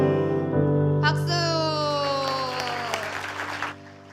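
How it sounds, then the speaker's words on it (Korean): Congregation applause at a church children's Sunday service play, rising as a broad patter under sustained tonal music with sliding pitches, then cutting off near the end. "박수."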